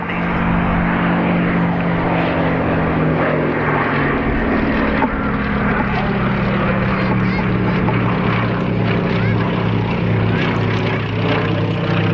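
A restored Westland Lysander propeller aircraft drones steadily and loudly at close range, its engine note sliding slowly downward as it passes, with faint voices underneath.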